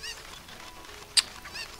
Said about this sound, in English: Alright, let me get the cuckoo.